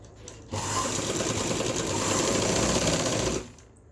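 Sewing machine stitching along the neckline of a kameez, a steady continuous run of about three seconds, close and loud, starting and stopping abruptly with quiet before and after.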